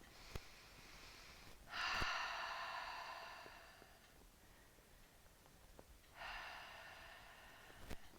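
Slow, deep yogic breaths during a dynamic flow yoga class, with two long, airy inhales or exhales spaced several seconds apart, close and soft against a quiet room.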